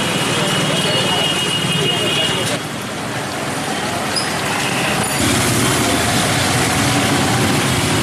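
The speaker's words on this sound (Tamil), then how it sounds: "பலத்த காற்று இடியுடன் ஒரு மணி நேரத்திற்கும் மேலாக கனமழை பெய்தது" Heavy rain pouring steadily during a thunderstorm with strong winds, a dense, loud, continuous hiss with a brief dip midway, likely under a news reader's voice.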